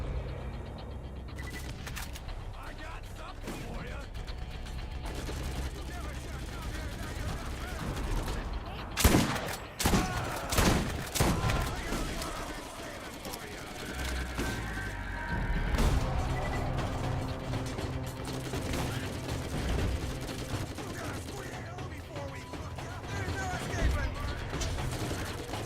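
Gunfire and grenade blasts in Borderlands GOTY Enhanced, with a cluster of loud, sharp shots and bursts midway through over a steady game soundscape, along with some speech.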